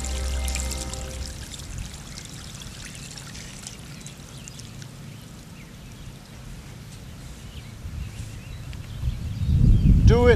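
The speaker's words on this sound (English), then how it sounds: "Pour a jar of water on the offering." A jar of water is poured out over an altar offering, giving a steady splashing trickle that lasts several seconds beneath a low background, with a heavier rush and splash near the end.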